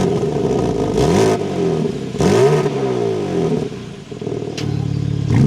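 A 2026 BMW M4 Competition xDrive engine fires up loud and close, then revs sharply in two rising-and-falling blips before settling into a throaty idle with a further rev near the end.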